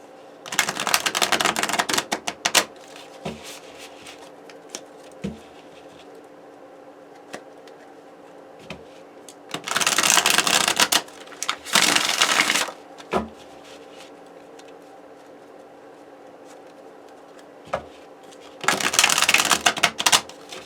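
Bursts of crisp riffling shuffles of thick-cardstock US Games tarot cards, three main flurries separated by quiet pauses with a few soft taps, close and fairly loud.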